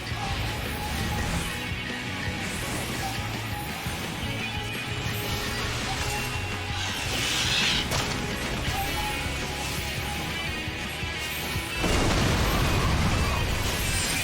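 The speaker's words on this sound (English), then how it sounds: "Detonate that star bomb." A star bomb detonates in Final Fantasy XIV, a crashing, booming blast rising out of dense battle noise toward the end, with continuous game effects and clatter running before it.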